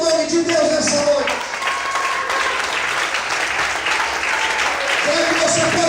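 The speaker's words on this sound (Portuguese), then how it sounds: "glorifique e aplauda o nome de Deus nessa noite." A church congregation applauds during a sermon, sustained clapping filling the room while sung or spoken voices rise over it at the start and again near the end.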